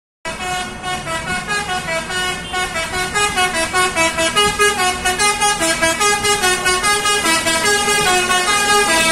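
An Indonesian military (TNI) bus passes, sounding a loud musical multi-tone horn in quick repeated pulses over a low engine rumble for about nine seconds.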